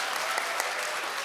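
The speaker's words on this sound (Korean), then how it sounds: "박수를 좀 부탁드립니다." A church retreat audience applauds a panel introduction with a dense, even wash of many clapping hands, loud and continuous throughout the short stretch.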